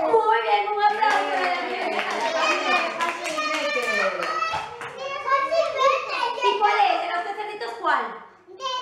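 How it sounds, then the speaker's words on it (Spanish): Children clap together in a busy burst while a voice and kids' chatter carry over the applause. "Muy bien, un aplauso"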